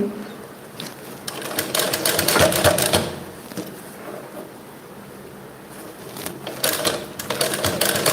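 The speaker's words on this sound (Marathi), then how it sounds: "एकदम सावकाश अशी शिलाई मारायची आहे आता मी तुम्हाला हे दाखवते म्हणून मी सावकाश मारते तुमच्यासाठी" A sewing machine stitches piping slowly with a rapid mechanical rattle that starts and stops, then resumes toward the end, close up with no talk over it.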